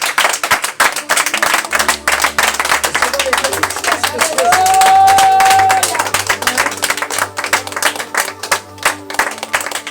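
A church congregation claps and cheers for God's presence, with dense, rapid applause throughout and voices calling out over it.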